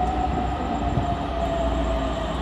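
A Pune metro train runs with a steady, loud rumble and a sustained tonal whine, continuous and close throughout, with no talking.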